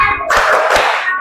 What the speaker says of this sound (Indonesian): kesenang hati, tepuk tangan.